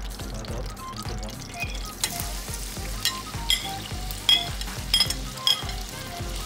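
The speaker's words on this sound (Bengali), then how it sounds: "so we will add the onions and fry it until golden brown" Onions frying in hot oil for a puff pastry filling, a steady close sizzle with crackling bursts and several stirring scrapes and clatters, with no talk.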